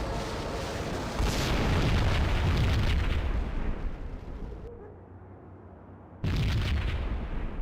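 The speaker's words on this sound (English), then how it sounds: "Another bomb exploded inside the closest slum building." A bomb blasts inside a slum building in a video game, a loud rumbling explosion that roars for several seconds, fades to a low tail, then a second heavy boom bursts in near the end.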